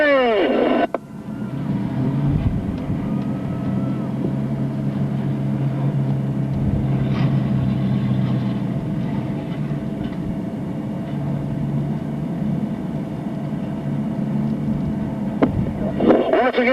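Race car driven by Ken McKenzie taking its lap at Riverglade Speedway in 1996, heard as a sustained, fairly loud engine roar that holds steady across the whole stretch with a low rumbling hum beneath.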